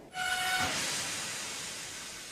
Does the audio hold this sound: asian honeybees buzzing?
no